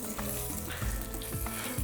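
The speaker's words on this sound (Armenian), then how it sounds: "Եվ այսպես բոլոր կողմերից կարմրացնում ենք մսակտորը։" Pieces of beef browning in a hot pan, a loud continuous close sizzle with crackling spatter and occasional thumps of stirring, no voices.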